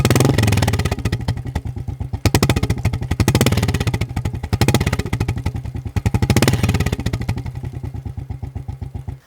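A modified Royal Enfield Classic 350 with a Tail Gunner exhaust idles loudly nearby with a deep, throaty note, pulsing steadily with a few brief revs throughout.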